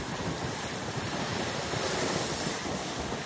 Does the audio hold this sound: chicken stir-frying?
no